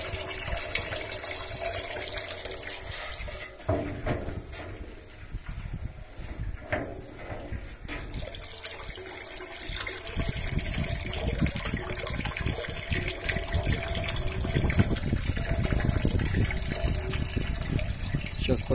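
Tap water from a plastic mains pipe pouring into a tall rain barrel, a steady rushing gush that shifts in character partway through and then continues strongly, loud and close without talk.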